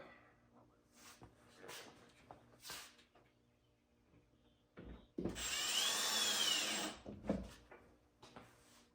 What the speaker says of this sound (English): I have mine on the lowest setting on my drill